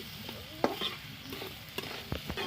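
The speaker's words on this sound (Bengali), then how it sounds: "ভালো করে আমি নেড়ে নিচ্ছি।" Ridge gourd with poppy seeds, green chillies and salt being stirred and fried in a pan, giving several close scraping strokes over a low steady sizzle.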